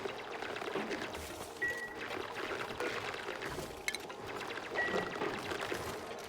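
Water pours and dribbles into an airflow tile in a base-building video game, a faint, steady liquid trickle with a couple of soft electronic chimes.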